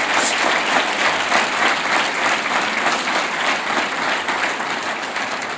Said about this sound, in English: please, a warm applause again.